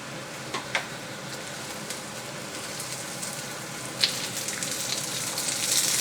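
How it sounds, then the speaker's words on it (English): Garlic and onion frying in oil in a hot wok, a steady soft crackling sizzle with occasional sharper pops, gradually growing a little louder. "in the hot wok or fry pan, add some oil. And first up we'll put the garlic and onion in."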